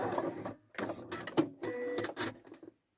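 A domestic sewing machine runs a straight stitch and then a zigzag overlock-style stitch along fabric, giving close mechanical whirring bursts separated by short pauses before it stops.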